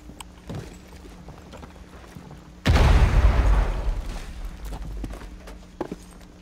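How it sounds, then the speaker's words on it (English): A grenade explodes in Rainbow Six Siege inside a house, a sudden loud boom midway that trails off into a rumbling decay, with faint footsteps and small thuds before and after. "Wait, I threw a grenade."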